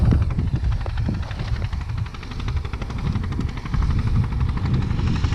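Old KhTZ DT-20 tractor hilling potatoes in a field, a steady rumbling engine drone with a rapid pulsing chug, continuous and fairly close.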